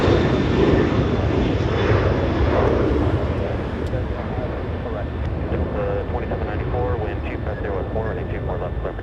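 A Delta airliner taking off from runway 24 left at LAX, its engines a steady, broad roar that holds close and loud throughout, with wind buffeting the microphone.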